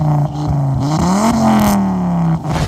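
Ford Escort Mk4 with a swapped Volvo/Focus 2.5 five-cylinder turbo engine revving up close, loud rising and falling blips with a strong throaty drone, alone without talk.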